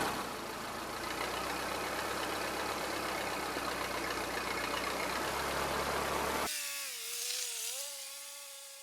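A Massey Harris 30 tractor engine idles with a loud, rough, steady chug and low rumble for several seconds, then cuts off abruptly, leaving faint whining tones in the background.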